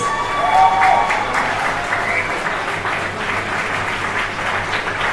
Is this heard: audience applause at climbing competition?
yes